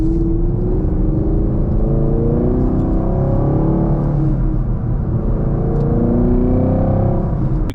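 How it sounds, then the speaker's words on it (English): A 2024 Chevrolet Camaro SS Collector's Edition with a manual gearbox, its V8 exhaust rumbling loudly and steadily from inside the car while driving through a turn, with pitch shifts as the engine revs rise and fall. "The exhaust is crazy. Do you guys hear that?"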